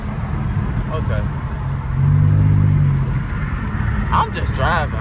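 Pontiac Grand Prix GT heard from inside while driving, a steady engine rumble that swells briefly as it accelerates, with voices talking over it.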